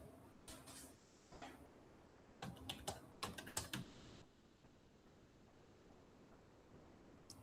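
Bursts of typing on a computer keyboard, with scattered clicks early on and then a quick, dense run of keystrokes in the middle. The taps are fairly close and soft, no one speaks, and a quiet hiss fills the pauses.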